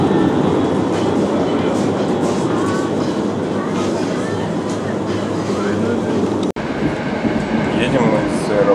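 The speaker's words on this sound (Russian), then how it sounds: "Едем мы с аэропорта на поезде." A passenger train running from the airport rumbles steadily from inside the carriage, with rhythmic wheel clatter and a brief sharp click partway through, while quiet voices murmur in the background.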